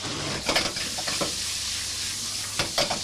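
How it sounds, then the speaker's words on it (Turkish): Kebab meat frying in a pan in an Istanbul kebab shop, a loud continuous sizzle and hiss with a few sharp scraping and stirring strokes at the start and near the end. "Kebapları çektik attık tavaya. Kebabı da tavaya çektim."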